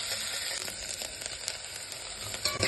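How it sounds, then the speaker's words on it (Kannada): About half a kilo of pumpkin goes into a pan of half-cooked onions, curry leaves and coriander, giving a soft, steady sizzle with light scraping and stirring, fairly quiet and close with no talking. "ಈಗ ನೆಕ್ಸ್ಟು ಕುಂಬಳಕಾಯಿ ಹಾಕ್ತಾ ಇದ್ದೀನಿ."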